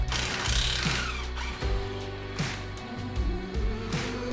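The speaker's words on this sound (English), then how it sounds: "you're going to need an 18 millimeter socket to remove the bottom bolt in your shock." A ratchet turns an 18 mm socket on the bottom shock bolt of a BMW E46 track car during a coilover install, giving several clicking ratchet strokes in uneven rhythm, close and clear, with no talking.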